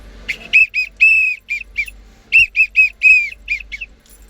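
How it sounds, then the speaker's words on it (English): Two bursts of sharp, trilling whistle blasts, each a string of short staccato toots with one longer blast, sounding loud and close with no talking. "a whistle is a really great way to not lose your voice"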